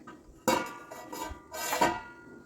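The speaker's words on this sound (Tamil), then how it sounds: "இப்போ நமக்கு இந்த மாதிரி பெரிய தட்டை ஒன்று எடுத்துக்கணும்" A large metal serving plate clatters and rings as it is picked up and set down in a kitchen, two distinct clanks with resonant metallic tone, close by.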